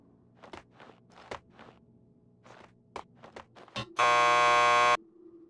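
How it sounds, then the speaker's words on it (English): A door buzzer in the video game Max Payne 2 sounds one loud, steady electronic buzz lasting about a second, after a run of soft footsteps. "Just press the buzzer by the door. Petersburg will buzz you in."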